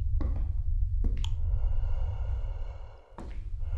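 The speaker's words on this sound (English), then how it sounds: "There's breathing down here." Breathing in the horror game Wrong Floor comes as slow, drawn-out breaths and sighs over a low rumbling drone, with a few sharp clicks between them.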